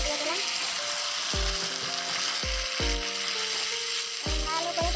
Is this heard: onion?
yes